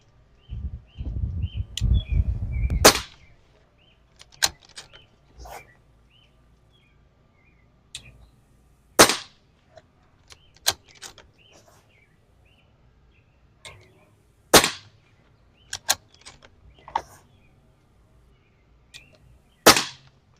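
Air rifle shots from a One Leaf Commander NV500 Eagle, heard as about five sharp, loud cracks spaced several seconds apart in a quiet outdoor setting, with a brief rumble near the start and faint small sounds between shots.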